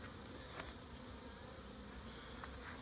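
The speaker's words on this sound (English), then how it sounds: "So these are all mainly nurse bees." Honey bees, mostly nurse bees on a hive frame, give off a faint, steady buzzing hum close by.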